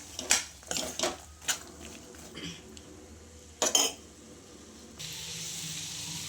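A spoon stirs chilli powder into a cooking pan of raw field beans, with several sharp metallic scrapes and clanks, followed by a steady sizzle from the pan.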